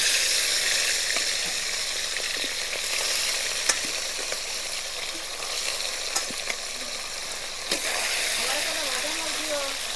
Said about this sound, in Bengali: এবার আমি মাছগুলো ভেজে নেব এক এক করে।